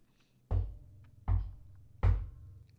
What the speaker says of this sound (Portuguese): 3 batidas na minha porta.